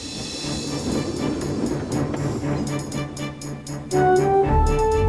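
A steam engine named Murdoch hauls a long, heavy train through countryside, rumbling and clattering steadily over the rails, then a loud whistle-like tone rises near the end.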